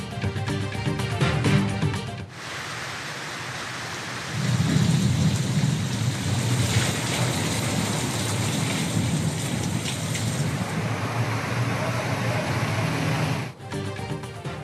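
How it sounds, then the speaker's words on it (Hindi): Heavy rain pours steadily while thunder rumbles in the low end, the downpour swelling louder partway through and running almost without a break. "पंजाब के मुख्तलिफ शहरों में बारिश, गर्मी का जोर टूट गया।"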